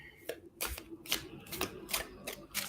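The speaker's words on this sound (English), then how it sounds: "right, I'll just give this a little shuffle." A deck of tarot cards is shuffled in quick riffling bursts, several rapid snaps close to the microphone, fairly quiet against a soft room background.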